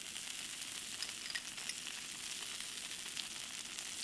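Sorghum (jowar) dosa frying on a hot pan as oil is added around its edges, giving a steady, soft, even sizzle throughout with no talking.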